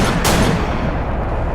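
Loud, close gunfire in the video game Battlefield Iraq, with a sharp burst near the start followed by continuous rumbling shots and explosions filling the whole stretch.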